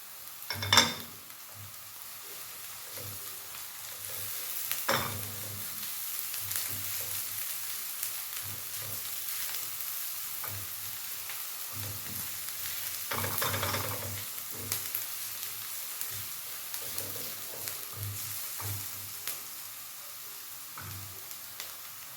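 Garlic frying in a pan for a noodle dish gives a steady sizzle with stirring scrapes throughout, a few sharper utensil knocks near the start and midway, close and moderately loud.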